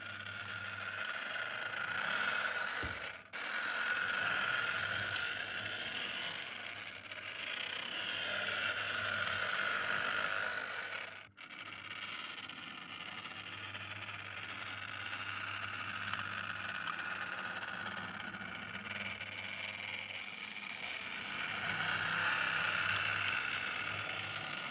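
A Roco DB BR181 HO scale model electric locomotive crawls along steadily, its small motor and gears giving a continuous mechanical whir with a faint ratcheting texture, close and fairly even, with two brief dips, and no talk.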